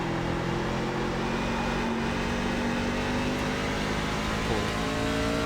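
A NASCAR truck engine throttles up on a racing game's oval at Lucas Oil Speedway, giving a steady, continuous loud drone with a held tone and no break.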